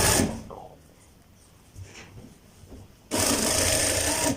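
A sewing machine runs in a short burst stitching piping onto a curved band, the motor whirring loudly for about a second after quieter handling sounds.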